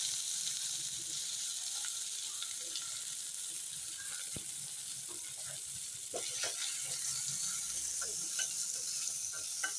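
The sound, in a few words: onions sautéing in oil for prawn gravy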